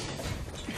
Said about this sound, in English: Recharging my shields.